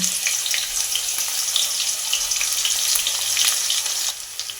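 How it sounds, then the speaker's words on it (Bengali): Crushed garlic sizzles steadily in hot mustard oil, a dense, continuous crackle close by with no voices. "এই তেলের মধ্যে দশ থেকে বারোটা রসুন কোয়া থেতো করা এই তেলের মধ্যে দিয়ে দেব"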